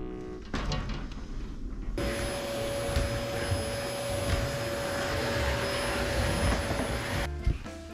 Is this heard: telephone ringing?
no